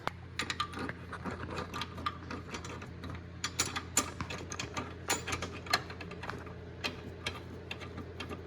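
Bolts being threaded onto the coilover brackets of a Honda EK hatch, producing quiet, close metallic ticks and clicks in an irregular rhythm with no talking.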